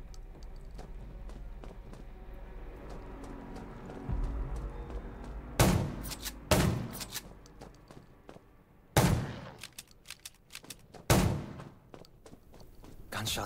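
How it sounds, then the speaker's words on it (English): Several sharp gunshots crack out in the zombie survival game Undawn, spaced irregularly, loud and close over a steady low ambient rumble. "Gunshots will attract more zombies."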